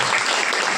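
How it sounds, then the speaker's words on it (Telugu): A church congregation claps together at a fasting prayer service, a short, dense burst of hand claps heard close and loud. "చప్పట్లు కొట్టి,"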